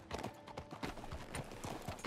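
Horse hooves gallop in Red Dead Redemption 2, a steady, fast clip-clop rhythm of hoofbeats close by, loud and continuous with no talk over them.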